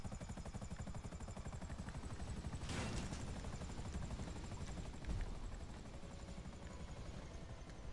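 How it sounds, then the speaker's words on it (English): A helicopter flies in a video game, giving a loud, continuous, rhythmic rotor thumping that stays close and steady throughout, with a brief burst of noise partway through and no talking. "Have you called up your chopper?"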